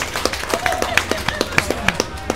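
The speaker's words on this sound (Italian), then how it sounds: "Facciamo sentire un applauso per Eva Enger." Scattered claps from an audience applauding Eva Henger at an interview event, sharp separate hand claps in an uneven rhythm over a low hum of background voices.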